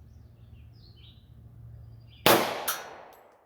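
A single loud, sharp report from a .45 ACP pistol firing a Gold Dot round over a chronograph, followed quickly by a fainter second crack and a fading echo after quiet, birdy ambience.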